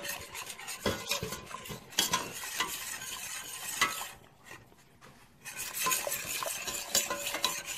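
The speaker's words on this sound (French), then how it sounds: "Faut vraiment bien mélanger pour qu'il n'y ait pas de grumeaux." Cornstarch being whisked into coconut milk in a bowl, making a steady scraping, clinking stir that runs without pause apart from a short lull midway, with no voices.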